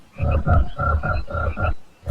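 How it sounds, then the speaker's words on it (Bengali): Frogs croak outside on a rainy night in a quick, rhythmic run of about seven deep, throaty calls, loud and close, with no talking. "ব্যাঙের ডাক ভেসে আসছে বাইরে থেকে।"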